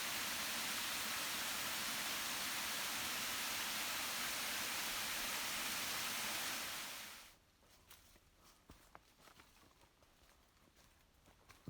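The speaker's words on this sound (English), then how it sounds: "Nice little creek here." A small creek on North Carolina's Mountains-to-Sea Trail near Mt Mitchell rushes with a steady broadband wash of flowing water, then drops away suddenly, leaving only quiet scattered ticks and rustles.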